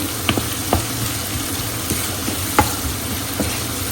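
Garlic and salt frying in oil in a pan for a Bengali home-cooked dish, a steady sizzle with a few sharp clinks and knocks of a utensil, no talk.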